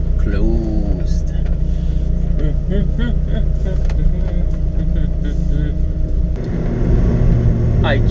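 A Dodge Viper pulls out of a residential street, its engine a loud, steady low rumble that swells as it accelerates, with voices talking over it throughout.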